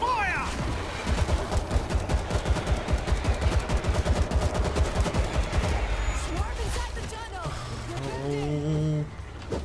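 Rapid automatic gunfire in the World War Z video game's Jerusalem level, a dense burst of repeated shots for several seconds, then voices shouting over the fading clatter near the end.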